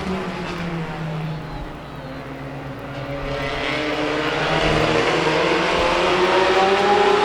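A pack of race cars at a feature race pulls away on the green flag, a layered engine roar rising in pitch and loudness as they accelerate out of turn four.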